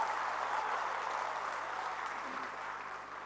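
Applause at the UMNO General Assembly in honour of its two chairmen, a dense, steady wash of many hands clapping that fills the hall throughout and eases slightly toward the end.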